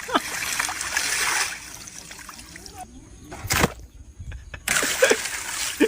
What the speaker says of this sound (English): it's making a sizzling sound as the water hits the ice